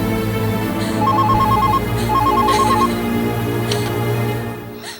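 A telephone rings in a Tamil serial scene, its repeating electronic ringtone sounding in two clear bursts over a steady background music bed, loud and close, with no talk.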